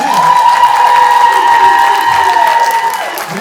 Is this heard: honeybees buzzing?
no